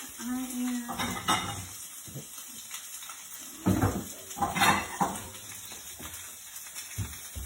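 Fish for fish tacos cooking in a pan over medium heat, a soft sizzle beneath intermittent clinks and scrapes of utensils against the pan, close by.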